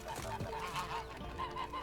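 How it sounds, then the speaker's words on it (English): Goose honking in The Witcher 3 video game, a string of repeated nasal honks at a steady rhythm, moderately close and fairly quiet, heard alone without talk. "Goose."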